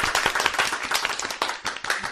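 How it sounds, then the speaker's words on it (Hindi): Children clapping together loudly in an energetic burst of rapid, uneven applause at a street medicine seller's show, sustained throughout without talk. "सभी बच्चे लोग एक बार जोर से ताली तो बजाओ।"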